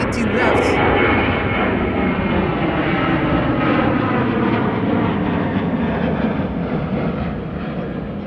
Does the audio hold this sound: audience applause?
no